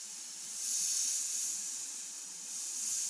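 An airbrush sprays paint at about 35-40 psi, a close, airy hiss that swells and eases in two long bursts with a slight pause between them.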